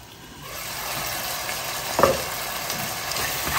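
Chicken breast and vegetables cooking in a covered frying pan, a soft steady sizzle rising after the first half-second, with one brief clink from the lid or a utensil, no voices.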